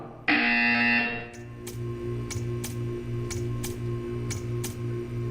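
A steady electronic buzzer tone in Portal 2 drones continuously, with sharp clicking ticks repeating at a regular rhythm over it.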